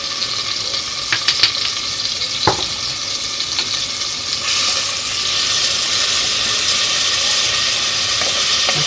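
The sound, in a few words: rice frying in oil with seasoning in a new pan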